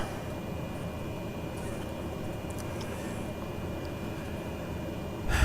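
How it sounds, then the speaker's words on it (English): A small aircraft's propeller winding down after the engine is cut at idle and the prop is feathered, a steady low broadband drone that holds level before a brief louder bump at the end. "we see the prop slowing down"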